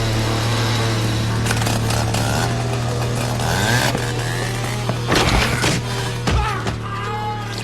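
A chainsaw drones loudly and steadily through a tense horror film scene in a hallway, its motor hum continuous under sharp bursts of clatter and impacts, with no talk over it.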